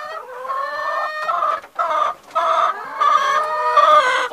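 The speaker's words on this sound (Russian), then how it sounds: "Вот как петушок рыженький у нас поет." A rooster crows repeatedly in loud, harmonic bursts with short breaks between calls, close by and with no talking.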